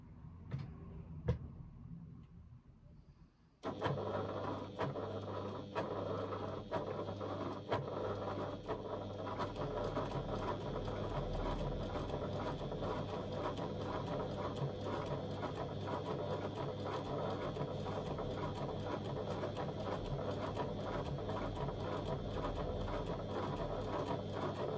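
A sewing machine stitches around a rectangle on a bag lining, starting after a few quiet seconds with faint clicks, then running as a continuous fast mechanical whir with rhythmic ticking for a long stretch, without speech.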